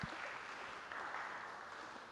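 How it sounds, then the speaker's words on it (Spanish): Faint, steady applause from an audience at a urology lecture on benign prostatic hyperplasia, a soft wash of clapping held at an even level throughout. "recibámoslos con un fuerte aplauso"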